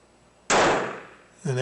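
A Jennings J-22 pistol fires a single sharp, loud shot that rings and decays, suffering a failure to eject; a voice begins right after.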